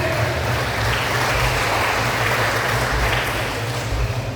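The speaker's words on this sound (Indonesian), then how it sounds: "Tepuk tangan." Audience applause fills the room in a steady, dense wash of clapping at a talk, loud and continuous with no voices over it.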